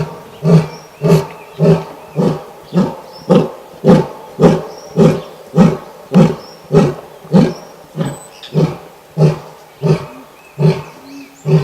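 A male Asiatic lion in the Gir forest roars in a long rhythmic series of about fifteen loud, close grunting bursts, evenly spaced roughly every three-quarters of a second, with no voices.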